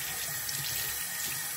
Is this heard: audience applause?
no